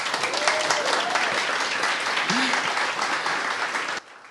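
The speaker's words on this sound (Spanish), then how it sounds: "Un aplauso, por favor" A live audience applauds after a talk, steady dense clapping with a brief vocal exclamation mid-way, cutting off abruptly near the end.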